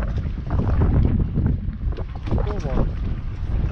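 Heavy wind gusts roar against the microphone at Calvi, Corsica, loud and constant, with a voice faintly mixed in underneath.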